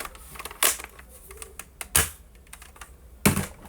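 A plastic Nerf toy blaster's firing mechanism snaps three times, each a sharp, bright, close click-burst spaced about a second and a half apart, with quiet handling noise between.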